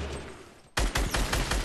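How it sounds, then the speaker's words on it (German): A grenade launcher in a multiplayer shooter video game opens up abruptly after a quieter moment, releasing a quick series of loud, booming shots in steady succession. "Granatenwerfer-Action."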